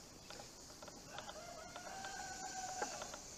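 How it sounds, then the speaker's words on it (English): A single rooster crowing outdoors on a rural property being cleared of trees, one drawn-out call at moderate distance over faint background noise, no talk. "And there goes my chicken."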